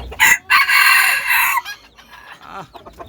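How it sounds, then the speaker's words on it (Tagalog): A rooster crows once, loud and close, a long drawn-out call that trails off into quieter background sounds. "Napakagandang tilaok mga kanter."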